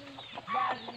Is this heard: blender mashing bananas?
no